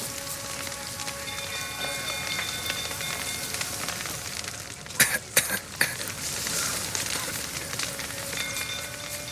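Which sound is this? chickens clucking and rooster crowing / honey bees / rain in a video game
rain in a video game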